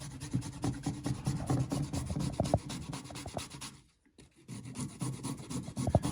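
Garlic and ginger grated by hand with firm pressure for a stir fry, giving a steady run of loud, close rasping strokes that stop briefly near the end and then start again.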